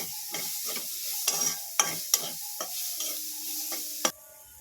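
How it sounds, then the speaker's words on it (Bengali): Vegetables frying with cumin and coriander powder in a pan, a steady close sizzle broken by several sharp spoon scrapes and stirs against the metal, no talking. "জিরে গুঁড়ো ধনে গুঁড়ো এবারে এটাকে একটু ভেজে নেব"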